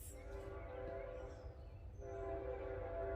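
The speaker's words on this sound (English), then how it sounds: "Is that another train?" A train passes at a distance outdoors, a steady low rumble with a brief horn-like tone, continuous and moderately loud throughout.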